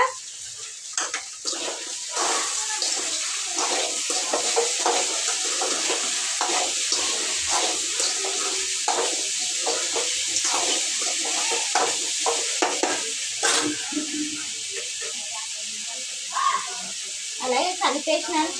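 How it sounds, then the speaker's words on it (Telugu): Potato pieces frying in a pan with a little salt, a steady broadband sizzle with frequent scraping and stirring clicks throughout, fairly close and continuous. "ఆలు ఫ్రై చేసిన అలాగే కొద్దిగా సాల్ట్ సాల్ట్ వేస్తే మనకి తొందరగా మగ్గిపోతుంది ఆలగడ్డ"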